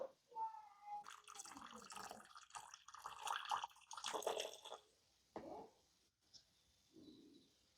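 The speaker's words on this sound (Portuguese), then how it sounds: "Eu vou jogar aqui a água que tá excedendo." Excess water is poured off a settled mixture of clay and water while making earth-based paints, a splashing, trickling pour in several uneven bursts over the first five seconds, then fading to a few faint drips and dribbles.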